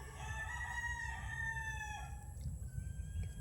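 Chickens call and crow steadily at close range, with a constant low rumble of background noise underneath.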